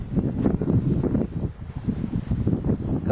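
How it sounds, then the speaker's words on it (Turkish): Wind blows in from the sea outdoors, a gusty low rumble buffeting the microphone throughout. "Rüzgar oradan geliyor."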